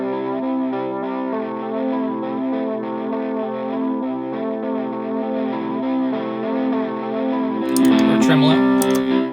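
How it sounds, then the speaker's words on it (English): An electric guitar plays sustained chords through a chorus effect on a mini loop station, the tone shimmering and wavering steadily, ending with a brighter strummed burst; no talk is heard over it. "Let's switch to a chorus sound."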